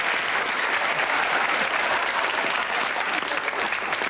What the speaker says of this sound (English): Big round of applause for Alex Higgins.